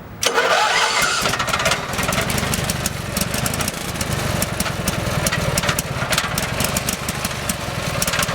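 A generator engine at an RV cranks and catches on choke, then keeps running with a loud, steady, sputtering rattle close by.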